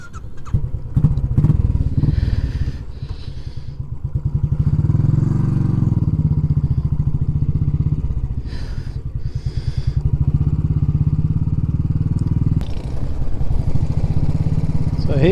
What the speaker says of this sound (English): this is the Royal Enfield. So this is a 500cc fuel injected single